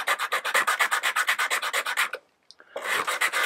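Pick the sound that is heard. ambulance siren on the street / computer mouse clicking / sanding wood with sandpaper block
sanding wood with sandpaper block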